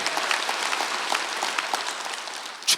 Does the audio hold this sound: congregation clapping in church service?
yes